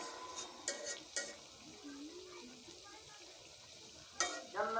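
Pitha cakes frying in oil, a steady low sizzle with occasional utensil clinks and scrapes against the pan, close, and a soft voice briefly in the background.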